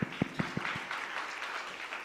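Brief, fairly quiet applause from an audience at a conference session, with a few distinct thumps at the start before settling into a soft, even patter.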